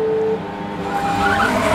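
Orange Indy car in a racing video game skidding with a long, steady tire squeal over engine noise, loud and close, sustained throughout.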